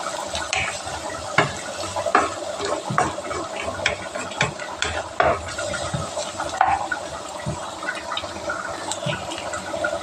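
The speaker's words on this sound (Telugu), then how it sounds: "ఇవి కొంచెం బాగా ఫ్రై అవ్వాలి." Curry leaves and green chillies fry in hot oil, a loud continuous close sizzle and spatter with a few stirring clinks, with no talking.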